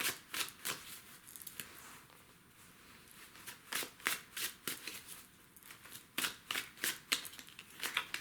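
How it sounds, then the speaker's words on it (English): Tarot cards are handled, drawn and flipped in a series of crisp, close card snaps and slides, some quick clusters and some spaced pauses between them, with no talking. "I'm going to open the Devil card."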